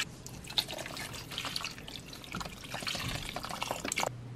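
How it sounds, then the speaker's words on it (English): Vegetable stock, poured from 32-ounce boxes, trickles and splashes into a soup pot: a faint, steady liquid pour with small drips and gurgles, ending abruptly. "Add your vegetable stock, which is 8 cups, which is 2 32-ounce boxes."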